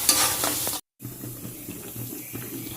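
Fish curry simmering in a pan on a gas stove gives a steady low bubbling and sizzling hiss. A brief burst of louder clatter comes first, then a short full silence, then the quieter simmer continues close by with no talk.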